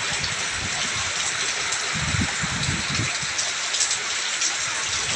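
Heavy rain pours steadily in a village in Jepara, Indonesia, during strong wind among banana trees, a dense, continuous hiss of drops on surfaces with occasional louder gusts and splatters, no talking.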